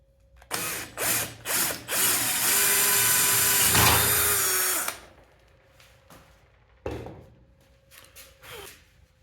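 A power drill whirs in short bursts, then runs steadily for a few seconds while boring a hole through a workpiece, followed by brief clicks and quieter handling sounds.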